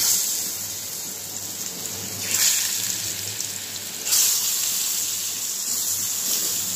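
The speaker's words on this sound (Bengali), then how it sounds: "সবগুলো মাছ আমি ভেজে নেব।" Shol fish pieces rubbed with turmeric, salt and chili powder fry in hot oil, giving a steady close hiss and sizzle with two sharper surges as pieces go into the pan.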